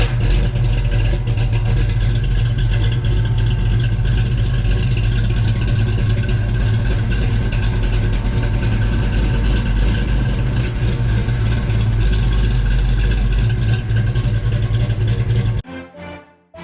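Ford Capri foxbody sleeper car with its engine running steadily as the car is moved, a loud, continuous low rumble and drone that holds at near-constant level before cutting off abruptly at the end.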